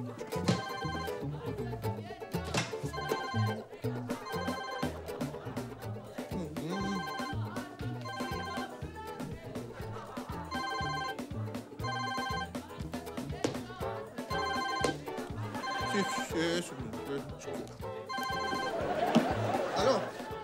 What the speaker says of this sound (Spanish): me está sonando el teléfono para contestar